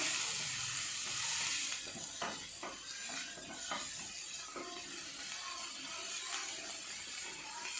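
Sweet corn kernels sauté in butter in a pan, giving a steady, close sizzle with scattered stirring clicks and scrapes throughout.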